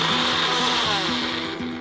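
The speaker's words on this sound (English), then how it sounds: "now we are going to blend it until you have a nice smooth hummus" An electric blender whirs steadily while pureeing tamarillo hummus, a loud continuous motor drone with slight cyclic pitch wobble, close up and without talk.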